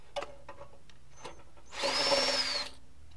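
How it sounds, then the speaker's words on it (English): A cordless drill driver backs rusty screws out of a snowblower: a few faint clicks and taps, then one close, high whirring burst of about a second. "drill driver really made it easier. Zip through all the screws, take them off."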